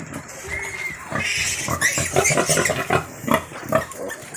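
Sows on a pig farm grunt and squeal continuously, close and loud, with overlapping rough oinks filling the whole stretch and no talking.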